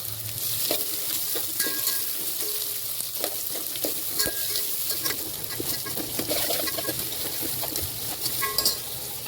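Cumin seeds crackle and sizzle in hot oil in a pan for a prawn pulao, a dense close-up frying hiss broken by many small pops and light stirring scrapes.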